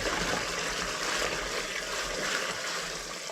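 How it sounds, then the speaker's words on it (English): Water poured into a boiler for a rustic European buck skull mount, a steady close wash of splashing and trickling that holds at an even level throughout with no talk. "And then I pour the water as needed."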